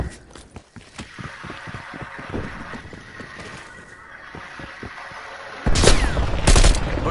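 Gunfire in a PS4 shooter game, a burst of rapid sharp shots early on followed by quieter scattered cracks and a loud final volley, with no talk over it.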